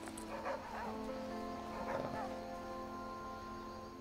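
Dog barks and yips in the survival game The Flame in the Flood, a few short sounds over a steady game music bed, moderately loud, with no talking.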